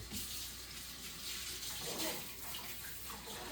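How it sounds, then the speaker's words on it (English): Hands are rinsed under a running kitchen tap while making a pot roast, a steady close splashing gush of water with slight shifts as the hands move through the stream, no talking. "And then I'm going to rinse my hands off again."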